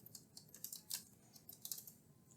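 Soft, quiet typing on a computer keyboard, with irregular clicky keystrokes in quick bursts at close range and no voices.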